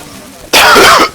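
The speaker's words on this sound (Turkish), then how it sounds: "Öksüremiyorum karnım ağrıyor öksürünce." A single loud, harsh cough bursts out abruptly from a nearby person during a Civilization V play session, a rough throat-clearing blast lasting about half a second after quiet room tone.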